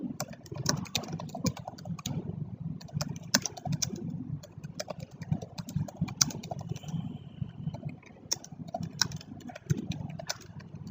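Typing on a computer keyboard, a quick irregular patter of close key clicks running throughout, with a faint low hum beneath and no talk.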